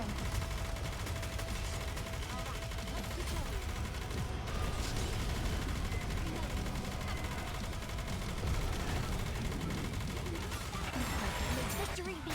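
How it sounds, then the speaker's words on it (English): Continuous gunfire in the shooter Goddess of Victory: Nikke, a dense rapid stream of shots layered with game music and effects, loud and unbroken throughout. "Commence firing."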